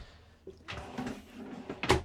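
A drawer in a luxury 4x4 Sprinter camper van slides open or shut with quiet knocks and a soft rolling rumble, ending in a slightly sharper bump.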